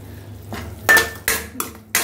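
A spoon scrapes and clanks against a pan while stirring tomato jam with ghee-fried cashews for biryani: a few sharp metallic knocks spaced apart over a quiet background, close and fairly loud.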